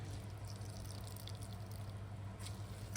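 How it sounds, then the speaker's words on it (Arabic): Water drains steadily from peeled cucumber in a kitchen, a continuous close trickle and splash with a low hum underneath, no talking. "بعد ما بشرت الخيار هصفي منه الميه ده اهي"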